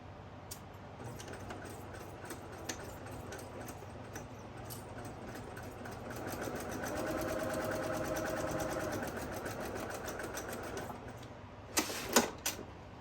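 A sewing machine stitches a flat-bottom tote bag in a quiet room, a soft mechanical whir that rises in the middle, followed by a few sharp clicks near the end.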